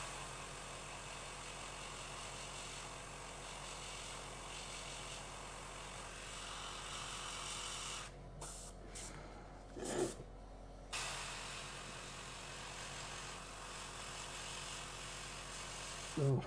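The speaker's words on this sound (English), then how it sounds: "We're aiming there, allowing the overspray to come in, hit our target for us" A paint spray gun hissing steadily with overspray, a continuous close hiss that briefly breaks off partway through and then resumes, with no talking.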